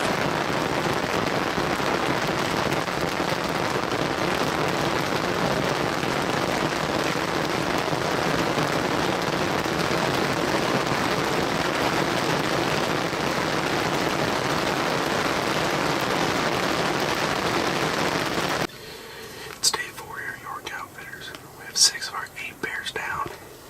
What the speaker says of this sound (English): A lot of hail. Talking like dime the quarter size here.